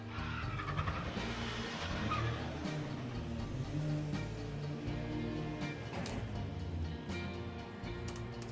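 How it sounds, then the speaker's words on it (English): Two Volkswagen Sciroccos idling and revving at a drag strip start line at Santa Pod Raceway, a dense continuous engine rumble with fluctuating revs, heard at moderate distance. "A pair of Scirocco's on the start line."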